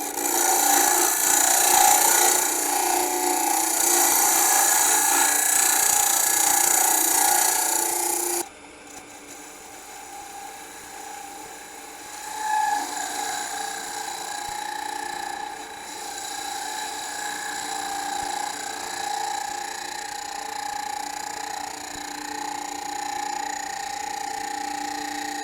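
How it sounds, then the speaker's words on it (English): On a wood lathe, a hollowed wooden scoop is sanded on its inside. There is a loud whirring, rasping hum for several seconds, then a sudden drop to a quieter steady spinning tone with light scratchy rubbing. "I'm going to do some sanding on the inside of that hollowed form that's going to form the scoop"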